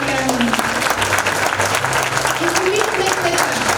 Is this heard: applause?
yes